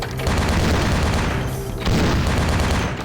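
Heavy gunfire in Vampire: The Masquerade - Bloodlines hammers in close, with continuous booming shots and rapid bursts filling the whole stretch and a brief dip before a fresh volley.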